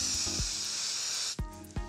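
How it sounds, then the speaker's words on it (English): Spray adhesive hisses steadily from a can onto vinyl for over a second, followed by two brief light knocks, close and fairly loud. "Using the spray adhesive, glue the fabric pieces to the vinyl."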